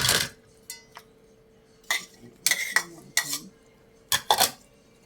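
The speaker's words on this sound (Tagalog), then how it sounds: "Mix all the ingredients." Utensil scraping and clinking against a bowl while fruit salad ingredients are mixed, several separate short clatters spaced irregularly, close and fairly loud, with no talk.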